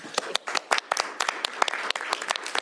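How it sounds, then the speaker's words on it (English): Close, sharp clapping from a small group honoring a senator at a governor's bill signing, individual claps distinct and irregular over a brief, lively burst. "Please give the senator a round of applause for her work on this bill."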